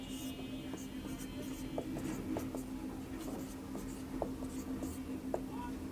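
A pen or marker scratches out vector notation on a board in short strokes and taps, faint and close under a steady low hum.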